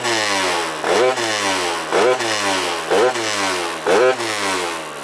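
Derbi GP1 scooter fitted with a 94cc Malossi RC-One engine, revved hard and close up in four sharp rising bursts that each drop back before climbing again, loud and alone.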